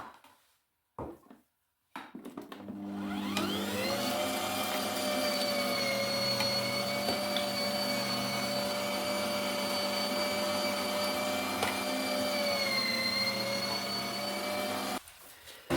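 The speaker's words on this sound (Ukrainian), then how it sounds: "На мілку сіточку мелю чесничок." An electric meat grinder runs steadily through a fine plate as garlic is minced for homemade sausage, a loud close motor hum with a constant tone lasting over ten seconds after a few brief clicks, then stopping.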